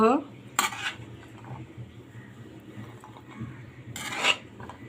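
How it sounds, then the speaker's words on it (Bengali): Cooked chickpeas being scooped from a pot into another vessel, with two bright metallic scrapes and clatters of a spoon against the pot, separated by a soft, muffled stretch. "এখন ছোলাটা একটা পাত্রতে ঢেলে নিব।"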